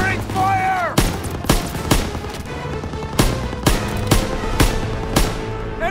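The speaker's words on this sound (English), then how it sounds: "You gotta suppress the machine gun!" Machine gun fire and other gunshots in Call of Duty WWII, the sharp bursts landing at irregular intervals over a steady battlefield din, with shouted voices mixed in near the start.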